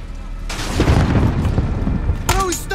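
A grenade goes off in Call of Duty: Modern Warfare, a single heavy, close boom that rumbles for a couple of seconds, followed by a brief burst of game noise.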